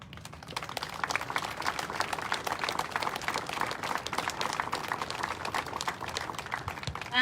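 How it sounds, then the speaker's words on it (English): An audience at a campus unity walk event applauds after a spoken poem, with dense, steady clapping that carries on evenly for several seconds. "Give them another round of applause"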